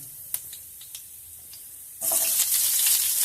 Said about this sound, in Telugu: ఆ కట్ చేసుకున్న ఉల్లిపాయ ముక్కలు దీంట్లో వేసుకుందాం